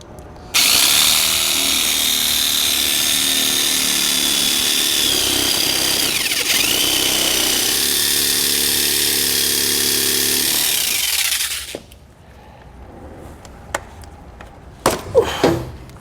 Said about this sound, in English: I'm going to be using one of these tiny reciprocating saws because I don't really have a good angle to get a Dremel in here.